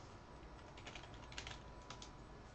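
Quiet typing on a computer keyboard while entering a command in the Windows command prompt, a short run of soft key clicks over a steady hiss.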